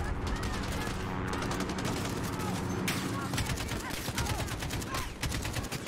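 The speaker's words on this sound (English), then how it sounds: "Oh, where am I getting shot from? Everywhere?" Rapid bursts of automatic gunfire in Call of Duty Modern Warfare crackle continuously from several directions, loud and dense throughout.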